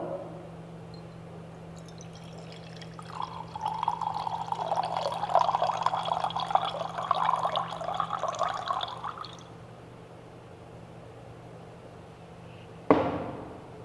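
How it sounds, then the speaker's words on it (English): Milk poured from a flask into a beaker, a gentle liquid trickle building over several seconds and then stopping, followed by a sharp glassy clink near the end, close and with no talk. "This is the second sample of the milk that I am adding to the beaker."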